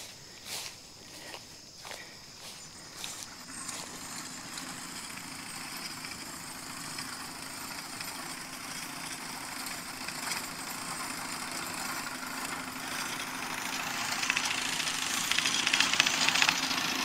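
A horse-drawn hay mower pulled by a draft horse team cuts a hayfield, giving a steady clattering mechanical chatter with a low hum that holds throughout and grows a little louder toward the end, with no talking.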